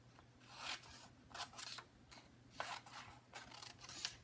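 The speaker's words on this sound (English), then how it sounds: "I create my no cut zone and then I cut my fringe." Scissors snip a paper fringe in a run of quiet, close, rhythmic cuts, each a short rasping crunch, with no one talking.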